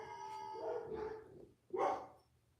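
A dog gives two loud, close barks: a longer, drawn-out first bark with a howling edge, a short gap, then a sharper second bark.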